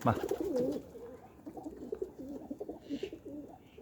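Pigeons coo in low, repeated throaty phrases close at hand, with a faint chirp or two in the background.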